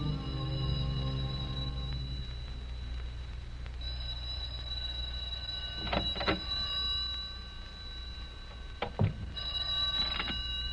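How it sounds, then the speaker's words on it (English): A telephone bell rings in a 1938 old-time radio drama, a couple of brief ringing bursts over a quiet, hissy background with no talk. "The phone was ringing when I came in the door."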